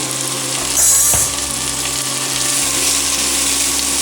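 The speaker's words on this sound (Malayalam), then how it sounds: "യെല്ലോ ക്യാപ്സിക്കം ഇതൊന്ന് ഫ്രൈ ആയിട്ട് ലെറ്റ്യൂസ് ഇട്ടാൽ മതി." Yellow capsicum fries in a hot pan for Chinese-style idiyappam, a steady close sizzle with a brief louder hiss and a low background hum throughout, no voices.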